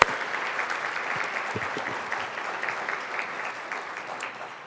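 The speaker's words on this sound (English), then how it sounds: "We should give each other a round of applause for that." A roomful of people applauding at a university service awards ceremony, a sustained even clatter of many hands that holds steady and slowly tapers toward the end.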